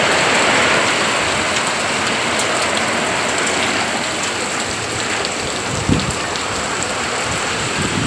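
Heavy rain pours down steadily, a dense continuous wash of drops striking trees and surfaces nearby, loud and unbroken throughout with a brief thump partway through.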